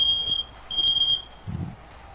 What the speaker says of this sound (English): Our fire alarm, because our stove is on.